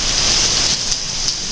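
Steady monsoon rain falls in Lake Havasu City as a continuous close hiss and patter, unbroken by speech.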